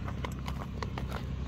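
A black horse is led walking, its hooves clip-clopping in a steady, moderately close rhythm over a constant low outdoor rumble.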